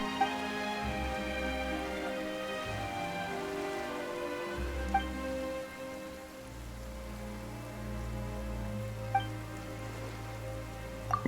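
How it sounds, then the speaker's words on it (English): Steady rain falls in the video game Genshin Impact, a soft continuous patter under a low musical drone, with a few faint chiming sparkles and no talking. "Why is it raining all of a sudden?"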